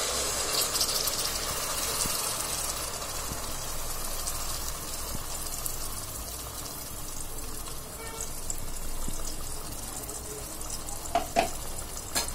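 Ground spice paste sizzling as it goes into hot oil in a wok for yogurt chicken, a steady broadband frying hiss with a few stirring scrapes near the end, close and fairly even.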